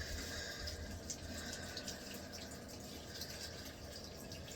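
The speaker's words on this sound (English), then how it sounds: "And then I'm gonna rinse off the gloves, even though I don't need to, because I'm not using these ones again." Tap water runs steadily as gloves are rinsed under it, a soft continuous rushing splash with no talk.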